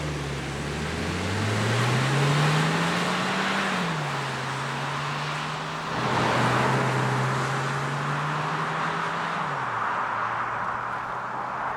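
Interior drive in a 2025 VW Taos, with a steady engine hum and road roar whose pitch rises through the gears and drops at each shift, with no talking.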